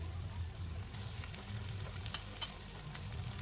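Spices fry steadily in hot oil in a pan for a pointed gourd and chhena curry, giving a continuous soft sizzle with occasional stirring scrapes, close and alone.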